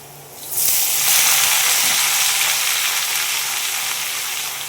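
Amaranth greens dropped into a pan of sizzling garlic set off a sudden loud, close burst of frying hiss and steam that holds steady for several seconds, with no talking.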